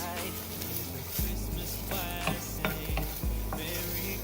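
Chopped Creole mix browns in a pan over high heat, a close sizzle broken by repeated stirring knocks and scrapes, with background music underneath.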